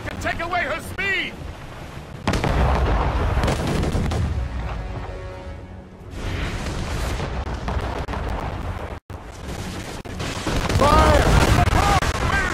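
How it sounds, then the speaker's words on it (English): Loud booming cannon and mortar blasts in a naval ship battle video game, heavy explosions with rumbling low end and sloshing water, continuing under excited shouted speech and game music. "Mortars would prove most advantageous right now. The explosive shot can take away her speed!"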